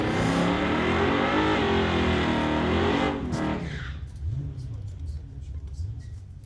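A street-legal car in the Outlaw class roars off down the Titanium Strip at Mission Raceway, loud engine revving and fading into the distance while a commentator talks over it.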